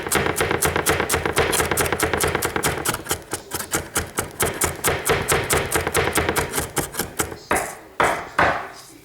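A knife dices an onion on a cutting board in quick, steady chops, close and crisp, the rapid rhythm slowing into spaced strokes near the end.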